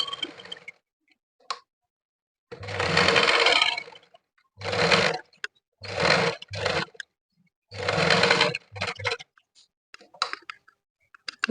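A sewing machine stitching a blouse in repeated bursts of rapid mechanical clatter, several runs of a second or so separated by pauses and small clicks as the fabric is adjusted; close and without talk.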